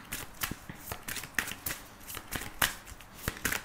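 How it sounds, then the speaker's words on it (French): Tarot cards are shuffled by hand, a close series of quick papery riffles and flicks in irregular bursts, with no talk over them. "Ouh, et les cartes sautent toutes seules."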